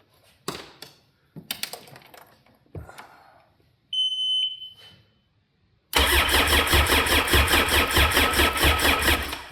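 A Sea-Doo RXT personal watercraft engine cranks on a first start attempt: a loud, steady rhythmic churning from the starter runs for several seconds, following scattered clanks and a brief high beep.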